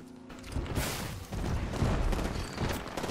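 Shotgun blasts in the Apex Legends battle royale game sound in quick succession, loud booming shots layered among other in-game gunfire and effects.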